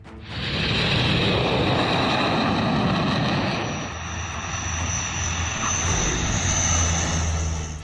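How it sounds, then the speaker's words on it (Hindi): Fighter jets such as Sukhoi, Mirage and Jaguar touching down on the Purvanchal Expressway airstrip, a loud sustained roaring engine whine that swells in, dips briefly, then roars again with a rising high tone. "सुखोई, मिराज और जगुआर जैसे कई फाइटर प्लेन के टचडाउन के साथ पूर्वांचल एक्सप्रेस वे वाली हवाई पट्टी"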